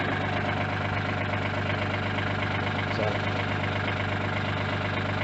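A backhoe's diesel engine idles at about 900 to 1,000 RPM, a steady close, loud rumbling drone with an even low throb that holds unchanged for the whole stretch.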